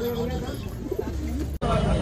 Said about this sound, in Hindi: कौन सा कबूतर है ये?